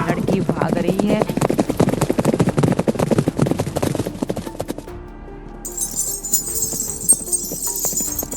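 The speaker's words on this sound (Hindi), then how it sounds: "जिस रूम में राजेश बैठा हुआ है उसी रूम के चारों तरफ जैसे घोड़े दौड़ रहे हो" Galloping horses in a horror story sound effect, a dense rapid drumming of hooves for about five seconds, then giving way to a quieter, hissing ambience.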